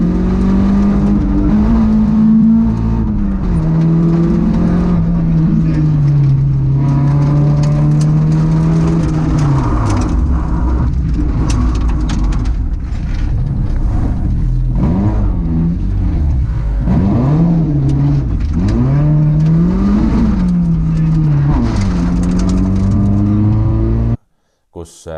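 Rally car braking hard on a stage with its wheels locking, the engine droning loud and close throughout, its pitch sagging and surging repeatedly before cutting off abruptly near the end.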